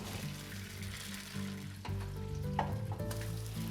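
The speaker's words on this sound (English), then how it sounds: "Warm them up, fry them up, make them aromatic." Whiskey-preserved peaches frying in butter over a fire, giving a steady close sizzle with soft crackles and a few stirring scrapes, with no talk.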